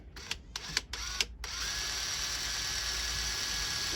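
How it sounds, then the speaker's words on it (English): A power drill bores out a screw on a brick hammer, starting with a few short clicks and bursts before settling into a steady, close, continuous whine. "hopefully it'll break it up and drill it out at the same time"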